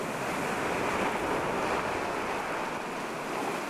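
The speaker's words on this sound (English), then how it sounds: "Ingrid and her team need an especially big wave to help them lift Petita." Ocean surf washes steadily over a stranded 5-ton orca near the shore, a constant loud rushing roar of breaking water and wind with no pauses and no voices.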